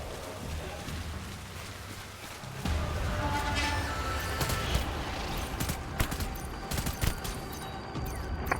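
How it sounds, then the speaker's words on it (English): Rubber-bullet non-lethal assault rifle in the video game Death Stranding: a long run of rapid, sharp shots, starting after a quieter stretch and continuing steadily over game ambience. "These boys ain't ready for the rubber bullet non-lethal assault rifle."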